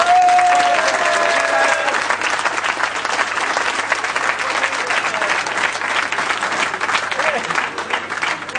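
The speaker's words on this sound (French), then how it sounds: "applaudissez, très très fort" Loud, sustained applause from an audience at a public event in Bourg d'Oisans, a steady dense wash of clapping that holds at full strength for the whole stretch.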